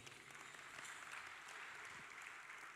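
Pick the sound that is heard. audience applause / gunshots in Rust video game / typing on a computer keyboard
audience applause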